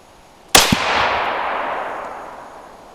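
A single .22 Creedmoor rifle shot firing an 80-grain ELD-M load cracks sharply at close range, followed by a quick secondary bang and a long rolling echo that fades over two seconds outdoors.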